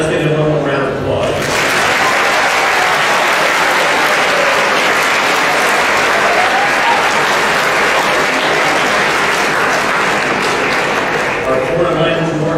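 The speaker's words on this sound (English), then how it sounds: "let's give them one more round of applause" A large audience at a high school awards ceremony applauds the award recipients, a dense, loud, continuous wash of clapping that starts abruptly and holds for over ten seconds with faint voices mixed in.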